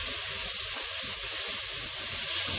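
Strips of bacon sizzle and crackle steadily in a hot pan as they fry toward crispness, a dense, continuous hiss close by with no voices over it.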